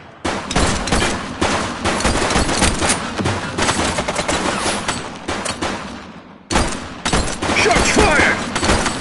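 Rapid bursts of automatic gunfire in the police video game The Precinct, loud and continuous for several seconds, breaking off briefly before resuming.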